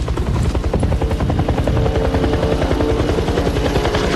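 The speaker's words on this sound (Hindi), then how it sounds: "देखो वो हेलीकॉप्टर है।" Loud, steady helicopter rotor chop with a fast rhythmic thumping, close and continuous throughout.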